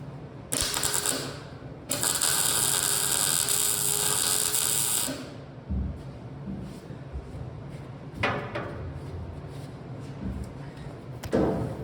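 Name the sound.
tack welding steel tubing for an M715 roll cage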